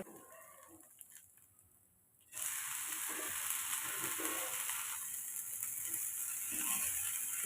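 Oats dosa cooks on a pan with oil or ghee: quiet at first, then a loud, steady close sizzle that holds without a break until the end.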